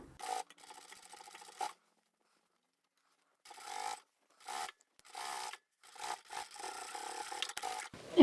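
A sewing machine stitches through several layers of a lined tote bag pocket in short bursts separated by pauses, its fast mechanical whir near and clear.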